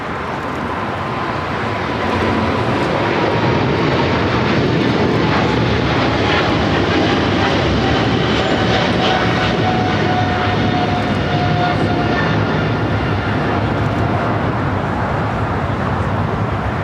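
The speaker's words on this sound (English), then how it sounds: "Japan Airlines heading back to Tokyo Haneda 777-300ER" A Japan Airlines Boeing 777-300ER jet at LAX, departing for Tokyo Haneda, gives a loud, steady roar that swells slightly after the first couple of seconds and holds throughout, with no voices.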